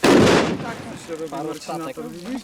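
A loud Middle Dynamit petard firecracker bangs once at the start outdoors near water, its blast decaying over about a second before people start talking.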